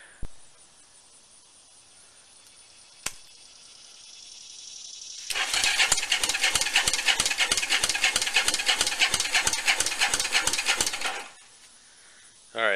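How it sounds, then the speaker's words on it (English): A Yamaha SR250 motorcycle with a suspected fault cranks on its starter motor for about six seconds, a rapid rhythmic churning whir, close and fairly loud, framed by a faint click and quiet handling noise. "I hit the starter button again, and the motor sounds totally different"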